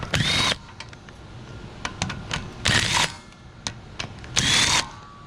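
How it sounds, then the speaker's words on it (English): Three short bursts of a high-pitched electric drill whirring as it runs out bolts on a Subaru wheel bearing job, separated by quieter clanks and shuffling, fairly close. "I'll come back with my electric drill and run them on out."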